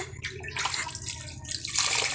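A child sits bathing in a small basin, water splashing and sloshing in short close bursts with a light trickling wash.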